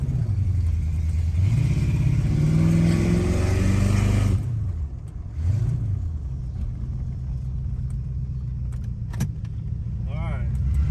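Corvette V8 idling with a rough, loping rhythm during a cheap build with nitrous being fitted, a loud rumbling pulse with a few swells in revs, then a steadier lower idle.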